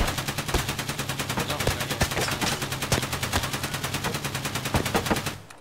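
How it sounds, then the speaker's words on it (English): Rapid automatic gunfire repeats nonstop in a steady, even rhythm from a video game sound bug, loud and close, then cuts off abruptly. "I heard you shooting non-stop. You did not stop shooting."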